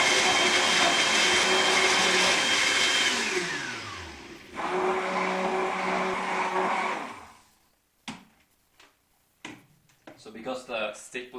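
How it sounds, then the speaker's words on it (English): Stick immersion blender whirring loudly through a smoothie for several seconds, its motor pitch dropping as it slows and stops, followed by brief clicks and handling noises. "because the stick blender always stay immersed, it's also known as an immersion blender actually"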